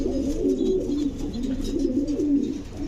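A fancy pigeon offered for sale coos nearby in a steady, low, rolling murmur that continues throughout.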